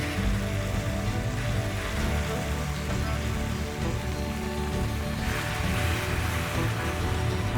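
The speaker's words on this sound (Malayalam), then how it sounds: "നമ്മളിപ്പം വെള്ളമാണ് ഒഴിക്കുന്നത്" Water being poured into a pan of Spanish mackerel masala, a steady splashing, rushing wash that runs continuously and fairly loud with no talk over it.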